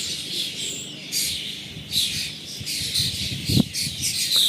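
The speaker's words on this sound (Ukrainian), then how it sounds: "як вони голосно, гарно співають, які вони гарні співаки, ці птахи" Lively starling song fills the air with overlapping high chirps and whistles, fairly loud and continuous, with a few sharp calls standing out.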